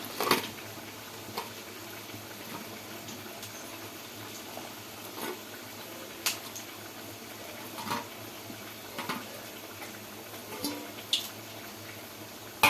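A pot of kuzhambu curry with fried lentil vadas bubbles steadily at a gentle simmer, with soft scattered pops and blips over a continuous low hiss, moderately quiet and close.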